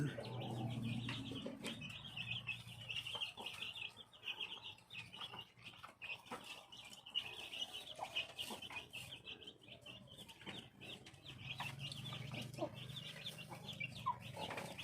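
Black chickens cluck and chatter in a farmyard flock, with steady overlapping calls throughout and a louder low cluck near the start and end.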